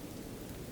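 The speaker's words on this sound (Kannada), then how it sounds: "ಏನು ಮಳೆ" Heavy rain falling as a dense, steady roar of broadband noise with no breaks and no talking.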